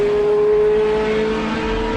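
Race cars at a 24-hour endurance race, a loud sustained engine roar with a steady high whine as cars run flat out, close and continuous, with no voices.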